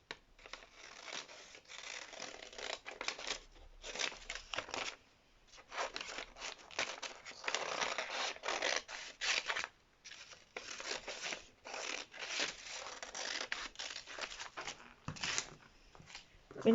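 Scissors cut through fabric for a frock in short bursts of crisp snipping and rustling cloth with brief pauses between them, fairly quiet and close.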